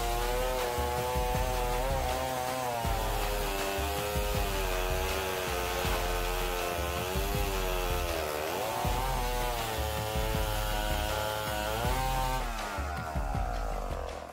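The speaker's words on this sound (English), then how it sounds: "Let's see its ability to cut wood." Big chainsaw cutting wood during tree felling, a loud continuous buzzing engine with a steady wavering pitch throughout, close and dominant with no talk.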